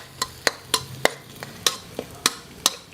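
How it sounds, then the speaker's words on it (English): Stink beans fry in a pan for Indonesian nasi goreng, a low, steady sizzle broken by sharp, regular clinks of a utensil stirring against the metal, about three per second, close and clear. "now we'll add in the handful of stink beans. And let that soak up, let that fry just for a little bit"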